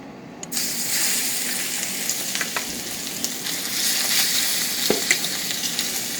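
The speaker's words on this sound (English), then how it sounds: "it's time to add our shrimp to the wok here" Shrimp sizzle loudly in an electric wok, a dense continuous frying hiss with scattered pops and spatters and occasional scraping as they are stirred.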